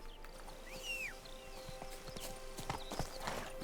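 Hooves of Roach, Geralt's horse in The Witcher 3: Blood and Wine, clip-clopping in a steady rhythm, with a brief whinny and birdsong over faint game ambience.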